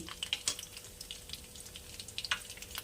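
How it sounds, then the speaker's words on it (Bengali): Nigella seeds tempering in hot oil left from frying fish for a Bengali fish curry, a soft sizzle scattered with small popping crackles, close and without voices. "এবারে এর মধ্যে দিয়ে দেব অল্প একটু কালো জিরা ফোড়ন"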